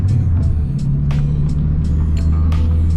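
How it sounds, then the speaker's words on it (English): A steady low exhaust drone from a Ford Focus ST rumbles continuously from inside the moving car, with occasional light clicks and knocks over the hum. "Hopefully you guys can hear the exhaust."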